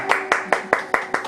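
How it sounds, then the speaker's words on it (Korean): A church congregation claps in a quick, even rhythm of about six sharp claps in just over a second, loud and close in a reverberant hall. "자, 박수."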